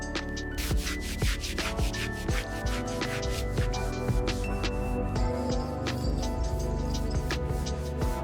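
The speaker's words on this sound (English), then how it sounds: "Using these fine abrasive pads and slow circular movements, we can remove the oxidation and restore the brushed metal finish." Fine abrasive pads rub in slow circles over the oxidized brushed metal of a 1999 MV Agusta F4 750 motorcycle, giving a close, continuous scratchy sanding with quick repeated strokes and no talk.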